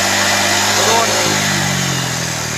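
A Honda Vario 150 fuel-injected scooter engine revved with the throttle, a loud, close mechanical drone that holds high, then drops in pitch toward idle partway through, with a voice speaking over it.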